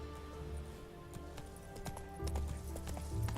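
Roach, the horse in the video game The Witcher 3, gallops with a quick, even clip-clop of hooves, fairly faint, with low rumbling swells toward the end.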